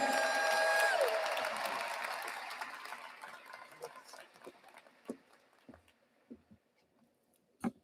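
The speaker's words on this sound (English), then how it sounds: "how about another round of applause for Gary, Dr. Mizell" A round of applause at a spring university commencement for the College of Arts & Letters and College of Business fades from a full crowd into scattered claps, with a brief tone and talk early on.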